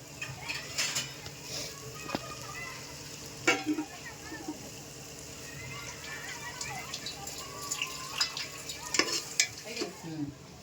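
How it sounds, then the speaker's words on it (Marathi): A spoon scrapes and stirs in a sizzling pot, with repeated clinks and scrapes over steady frying crackle, fairly close. "मिक्स करून घेऊया"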